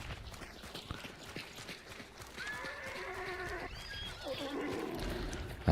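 A horse whinnies and neighs over a busy game soundscape, with hoofbeats and scattered clatter in the background.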